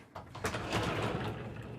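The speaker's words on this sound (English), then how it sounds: "Then we have pocket doors." A pocket door slides along its track inside a Renegade Valencia 38RB Super C motorhome, a single smooth rolling rush with a soft knock at the start, close and fairly loud with no talking.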